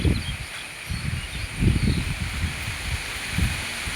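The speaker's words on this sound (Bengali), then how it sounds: "কি হাওয়া দিচ্ছে দেখুন, মনে হয় ঝড় উঠেছে।" Strong wind gusting through trees near a village road, a broad rushing roar with rustling leaves, swelling in repeated low buffeting waves close to the mic.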